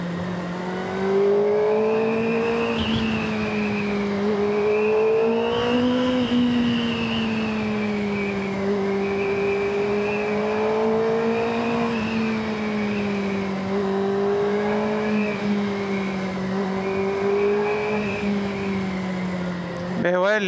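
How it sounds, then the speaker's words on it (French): A 2025 Kawasaki Ninja ZX-6R sport motorcycle runs on its stock exhaust, giving a steady, undulating engine drone that rises and falls gently as the throttle varies, sustained and fairly close. "l'échappement d'origine me surprend énormément"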